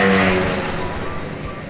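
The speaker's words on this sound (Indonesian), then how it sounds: "Banyaklah motor geng-geng ni." Motorcycles passing by on a road outside a roadside rice eatery in Langkawi, with a loud, close engine roar at first that gradually fades as the bikes move off.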